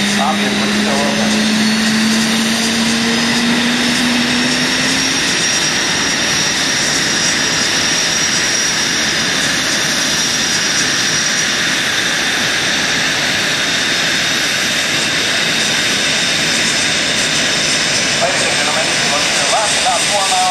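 Two jet planes in a sweep flight coming inbound at the NAS Oceana airshow: a loud, steady jet roar filling the whole stretch, with a falling engine whine early on.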